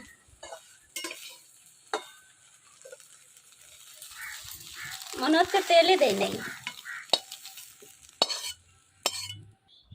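Soybean chunks dry-roasted in a hot pan with no oil and stirred until reddish, giving scraping strokes and a swelling sizzle in the middle, with a brief voice nearby.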